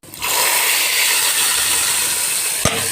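Fennel seeds hit hot oil for a potato kurma tempering, giving a loud, continuous sizzle and hiss that starts abruptly and holds steady, with a brief clatter near the end.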